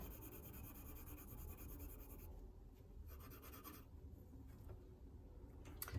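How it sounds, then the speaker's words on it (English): Soft, steady scratching of a colored pencil moving back and forth across paper while coloring, close and quiet, continuing for several seconds. "color neatly back and forth or move your pencil or crayon in little circles"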